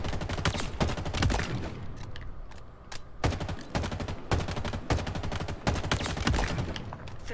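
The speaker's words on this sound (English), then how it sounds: "I'm just shooting the AR" Assault rifle fire in Halo Infinite crackles in rapid bursts separated by short gaps, punchy and close, with faint game sounds between volleys.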